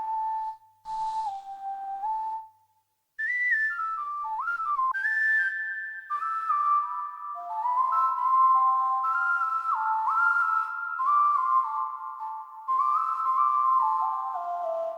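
A smooth synthesized whistle preset plays a slow, sliding melody of sustained notes, clean and fairly loud, with one brief pause early on.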